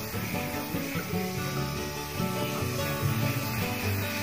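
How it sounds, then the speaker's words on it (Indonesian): Disinfectant is sprayed over a mattress in a bedroom being sterilized for a newborn, a steady broadband hiss running throughout at moderate level with no talk. "Semprot-semprot pakai desinfektan kasurnya."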